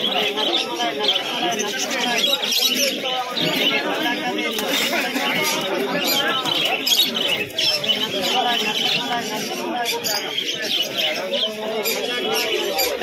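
Pigeons coo and chirp at the busy Birnagar pigeon market, partly masked by constant crowd chatter and people talking nearby.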